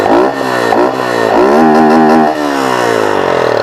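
Loud, close revving of a Honda Fan 150 motorcycle with a Fortuna sport exhaust, the engine pitch rising and falling in repeated throttle blips before holding a high, raspy roar.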